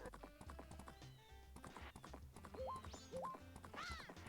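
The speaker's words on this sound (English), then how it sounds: "Since we have our horse, let's go to the water." Horse hooves clip-clop steadily in Zelda: Majora's Mask, heard alongside a horse's neigh and bright chiming game music.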